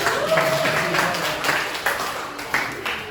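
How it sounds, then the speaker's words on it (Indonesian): Students in a classroom clap steadily for their class's high scores, a fairly soft, even patter of many hands with a few sharper claps standing out. "Beri tepuk tangan buat semuanya."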